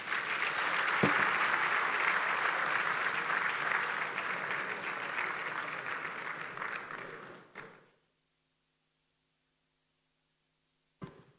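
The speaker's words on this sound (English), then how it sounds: "Ladies and gentlemen, can we please applaud Sarodionge Esquire one more time?" Audience applause at the Alaghodaro 2023 summit in Edo, loud sustained clapping for several seconds that fades and cuts off, leaving silence before a brief closing thump.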